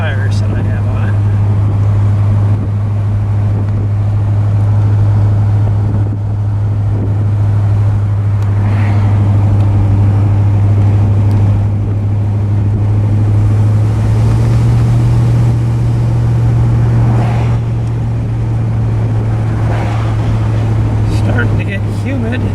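A 1964 Chrysler 300K convertible on 15-inch tires cruising with a steady low engine drone and constant wind rush, while someone talks over it throughout.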